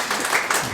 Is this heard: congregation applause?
yes